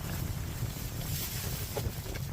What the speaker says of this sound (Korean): 바람이 불어오는 진짜 바람 불어요.